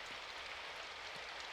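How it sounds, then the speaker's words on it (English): Steady soft rain patters on an umbrella in the game Symphonic Rain, a faint continuous hiss of drops with no voices. "The sounds of the rain hitting the umbrella was different than on the pavement."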